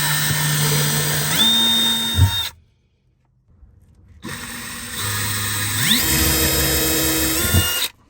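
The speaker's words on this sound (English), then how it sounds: "this is where we're going to drill a couple of small holes." A power drill with a 1/8 inch bit bores small holes for mounting hardware on Leitner first-generation GearPods, two whining bursts that rise and steady in pitch under load, separated by a short silence, loud and close.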